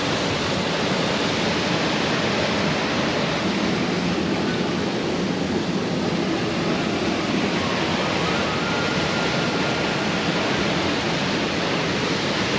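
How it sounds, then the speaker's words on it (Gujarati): A powerful waterfall on a river pours a large volume of water, making a continuous loud, steady roar that fills the scene with no break; no voices. "ભાઈ બહુ પાણી પડે"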